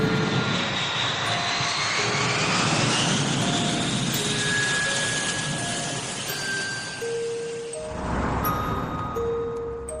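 Steady roar of a passenger airplane's engine on a flight to Kalimantan, loud and continuous, with a rising whine and shifting hum as the aircraft flies.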